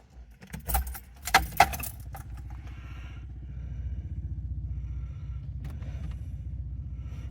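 Keys jingle and clatter before a rally car clone's engine cranks and fires, settling into a steady, pulsing, low idle rumble close by.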